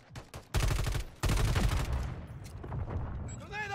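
Gunfire in the Call of Duty video game, two long bursts of rapid automatic fire, close and loud, then trailing shots and echoes while a voice speaks over part of it.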